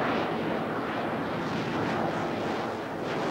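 A vertical take-off jump jet at the RAF Mildenhall airshow gives off a loud, continuous roaring blast of engine noise with wind buffeting, heard up close and alone for a few seconds.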